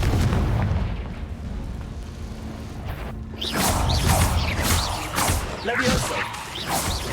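The Confringo blast spell strikes in a Harry Potter video game, giving a series of loud, sharp cracking impacts over a rumbling background, with a voice briefly heard among the blasts.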